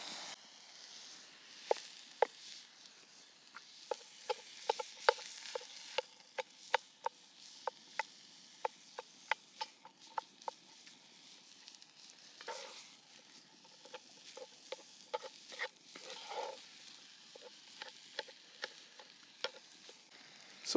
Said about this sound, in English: Then we'll take and mix the beef in with the onions and the garlic.